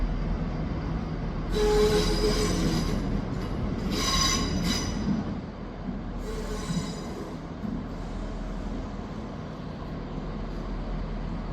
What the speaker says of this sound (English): Is the 1322 Scotrail service terminating here at Dundee from Edinburgh Waverley